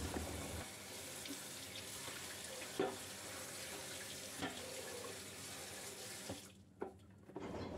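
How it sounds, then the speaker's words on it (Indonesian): Tap water runs steadily into a sink while a dish rack is washed, with a continuous splashing hiss and a few sharper clinks and knocks of the rack, close and fairly quiet, then the flow stops near the end. "Sambil aku nyuci rak piring ini"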